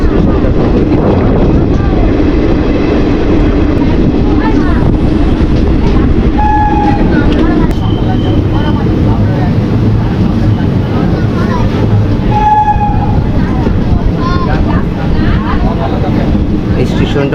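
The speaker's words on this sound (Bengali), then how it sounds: "আমরা এখন সালার স্টেশন ছেড়ে দিয়েছি" Passenger train pulling out of Salar station on the Chaurigachha to Katwa line, a steady loud rumble with wheel clatter and horn-like tones, with people talking over it throughout.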